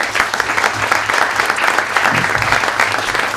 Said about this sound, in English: let's one more round of applause